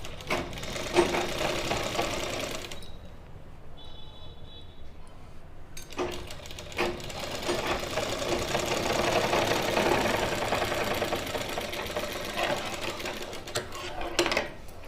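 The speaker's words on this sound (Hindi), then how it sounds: "इस तरह से थोड़ी थोड़ी बाजू को सेट करते जाएंगे और सिलाई कंप्लीट करते जाएंगे।" A sewing machine stitches a sleeve onto a kurti, running in steady bursts with a brief pause midway, close and fairly loud, with no talk.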